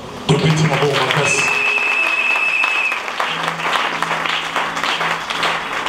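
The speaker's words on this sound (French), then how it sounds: "acclamons très fort" A church congregation bursts into loud sustained applause at a French-language prayer service, with dense clapping and cheering filling the space, and a voice carrying over the crowd.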